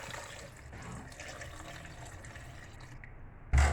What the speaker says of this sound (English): now to my blender I'm going to be adding some water